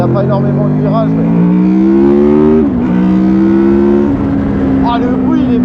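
A Honda VFR800X Crossrunner motorcycle engine revs up with a rising pitch, drops briefly at a gear change and then climbs again, loud and close under wind noise.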